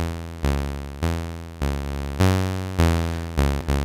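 A sawtooth wave from an SSF Zephyr analog oscillator passes through a VCA and plays a short sequence of plucked, buzzy notes. Each note has a sharp attack and a decay, and the notes come in a steady rhythm with no other sound.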